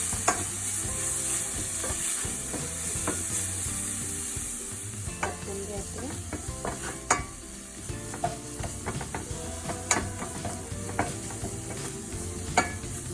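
Coriander paste is stir-fried uncovered over medium flame in a pan, giving a constant close sizzle punctuated by irregular sharp scrapes and knocks of a spatula against the pan, with no voices.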